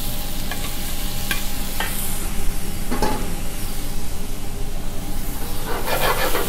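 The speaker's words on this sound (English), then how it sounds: "We will mix it, and along with this, and we will put the chopped tomato" Chopped tomato stirred into chicken frying on a hot tawa: a steady, loud sizzle runs throughout, with occasional spatula scrapes and clinks against the pan.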